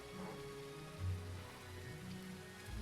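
Rain falling in the video game The Isle, a soft steady patter of drops on surfaces with a faint low rumble, continuous and fairly quiet throughout.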